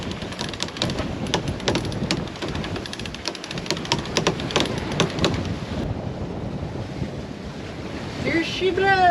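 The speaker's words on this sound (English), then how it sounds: "The squall has hit us." Strong squall wind gusting at roughly 26 to 27 knots over a sailboat at sea, with waves rushing and slapping against the hull and heavy wind buffeting the microphone, loud and continuous throughout.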